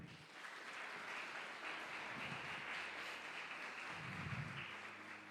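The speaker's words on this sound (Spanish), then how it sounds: "Denle un aplauso al Señor." A church congregation applauds, a dense, steady wash of many hands clapping that carries on throughout, heard from within the room with faint voices mixed in.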